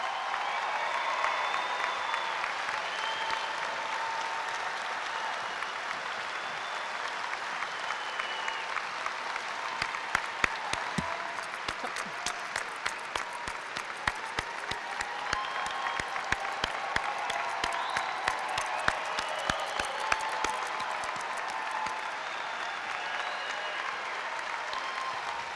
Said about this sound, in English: can we give one round of applause, everyone out there, for all of these students?